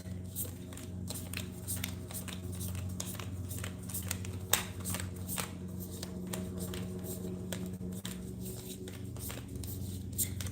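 Tarot cards are shuffled by hand in a quiet room, a long run of crisp riffles and soft slaps repeating in quick bursts, close and continuous, with no talking.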